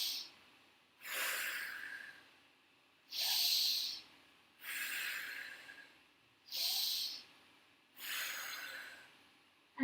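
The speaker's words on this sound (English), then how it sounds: "Let's do 3 deep breaths here" Six slow, deep breaths held in a yoga stretch, alternating inhales and exhales with steady airy rushes about a second and a half long, close and clear, separated by short pauses and with no talking.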